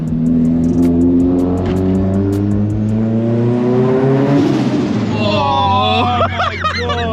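Nissan S15 with a loud modified exhaust revving hard inside a tunnel, the engine note climbing and echoing off the walls, with sharp high whines and crackles near the end.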